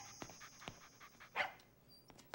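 A cartoon dog panting in quick short breaths, close by, with a brief louder huff near the middle and no talking.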